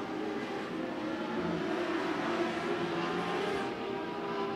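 Dwarf cars race around the I-76 Speedway oval, a continuous loud engine roar from several cars droning steadily through the whole stretch without a break.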